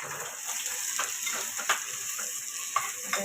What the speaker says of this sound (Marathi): त्याच्यामध्ये कांदा टाकून घेते, त्यात थोडा लसूण टाकून घेते।